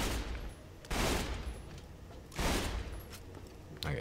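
Gun firing in Borderlands 2, three separate loud blasts spaced roughly a second and a half apart, each trailing into a decaying rumble.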